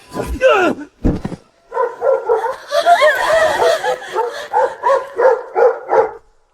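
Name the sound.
person imitating a dog bark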